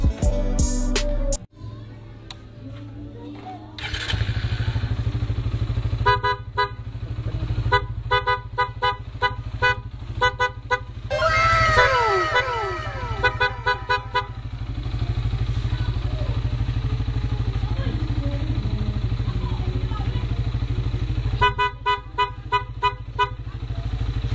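A PIAA horn on a Suzuki Raider 150 carburetor motorcycle blares in repeated bursts, some short toots and some longer blasts, loud and close over an idling engine rumble.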